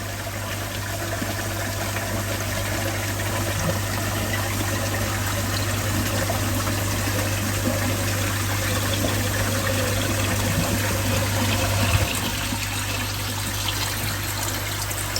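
A koi pond drains with a constant rushing, trickling wash of water over a low steady pump-like hum, continuous and fairly loud throughout with no talking.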